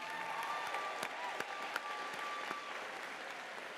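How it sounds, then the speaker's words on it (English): Applause from a commencement audience honoring the master's class of 2026 graduates at a public policy school ceremony, a steady, fairly faint wash of many hands clapping with a few sharper claps standing out. "We get a round of applause for them."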